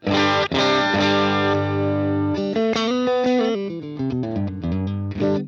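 Electric guitar played through a UAFX Ruby amp pedal set to a dark, driven tone: a sustained distorted chord rings out, then a run of picked notes and chords follows, loud and alone.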